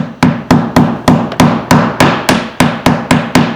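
A hammer drives a nail into vinyl siding during a house installation, about a dozen sharp, loud, evenly spaced strikes in quick succession, each ringing briefly before the next, close and clear with no talk.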